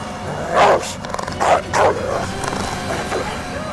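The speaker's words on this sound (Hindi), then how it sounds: "ये तुम्हारे बीमार कुत्ते हैं?" Several dogs in a kennel bark in short clustered bursts, three loud volleys close by with yips between them, and no talk over them.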